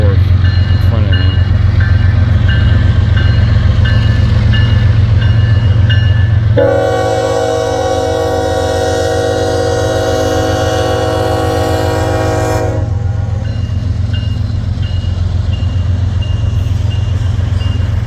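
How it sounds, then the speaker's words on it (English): A BNSF freight train runs northbound past a red signal at a rail diamond, its horn blaring loudly and steadily for several seconds over the constant low rumble of the passing railcars. "I think they're gonna run a BNSF north in front of me."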